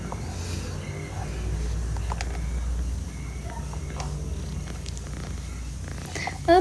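A cat purring close up, a steady low rumbling drone running throughout with faint background noises and a brief louder bump near the end.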